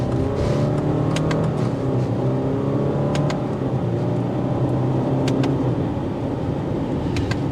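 A 2024 Subaru Outback Touring with a CVT accelerates on a test drive, heard from inside as a steady, loud engine drone with rising tones and faint ticks, no talk.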